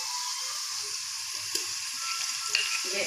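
Minced garlic frying in oil in a pan for potato pulao, a steady soft sizzle and hiss with a few light stirring clinks, close by and without talk.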